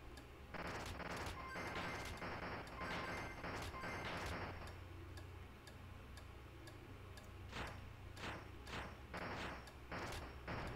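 Missiles slam into the player's ship in the M. B. Re shoot-'em-up on PS Vita, rapid bursts of sharp impact crackles in quick clusters over a steady low game drone, pausing midway before another volley.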